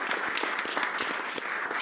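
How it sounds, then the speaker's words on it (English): Steady audience applause at a community Kwanzaa festival in Springfield, a dense crowd clapping evenly and continuously, close and full, with no voices over it. "let's give Ayanna a big round of applause"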